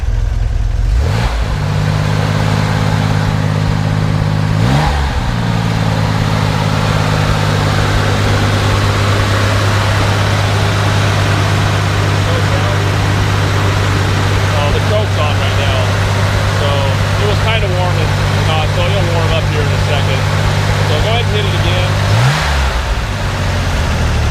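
A 1965 Chevrolet Corvair Corsa with a turbocharged engine and four-speed idles with a steady low drone, then blips its revs in sharp rises and falls near the start and end, while someone talks over it.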